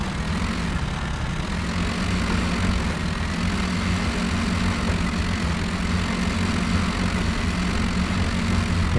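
Modded tractor engine in the Spintires video game hauling a long train of two trailers, a steady, loud low-pitched drone with a rumbling idle-like tone that holds constant throughout.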